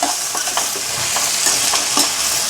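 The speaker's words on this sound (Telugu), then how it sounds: "బాగా కలుపుకోవాలి" Dried prawns being stirred in a pan with frying onions and green chillies for an Andhra-style gongura curry, giving a loud, steady sizzle broken by scraping strokes of the spoon, with no voices.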